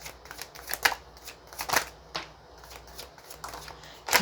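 Tarot cards shuffled close up: soft, repeated papery riffles and slaps in uneven bursts over a hushed background hiss, with no voice over them.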